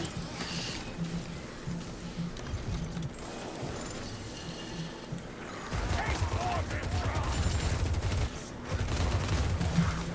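Steady gunfire in the video game Vermintide 2 rattles on for the whole stretch, dense rapid shots mixed with clanking mechanisms and impacts, loud and continuous with no break.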